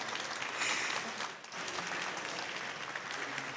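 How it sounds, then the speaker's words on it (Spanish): Warm audience applause at a book presentation during a book fair, a short burst of dense clapping that briefly dips and then swells again. "para quien pido un aplauso nuevamente"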